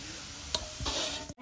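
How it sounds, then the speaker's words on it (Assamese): Semolina poured into hot oil left from frying biscuits, giving a close, steady sizzle with a clink of a utensil midway, ending abruptly. "এই বিস্কুট বনোৱা তেলতে এতিয়া বনাব লৈছোঁ চুজি এতিয়া এনেকে চুজিখিনি ঢালি লওঁ"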